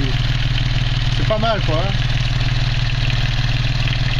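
A new boat engine on its first test run idles steadily and loudly with an even low throb throughout, while someone speaks briefly in French over it.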